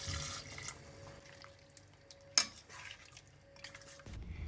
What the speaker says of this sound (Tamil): நான் 2 கப் தண்ணி ஆட் பண்ணுறேன்.